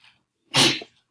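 A single loud, close sneeze bursts out after a faint breath, sharp and brief, then silence.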